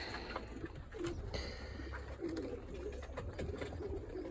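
Racing pigeons coo softly in repeated low calls amid faint loft rustling, close by and without any talking.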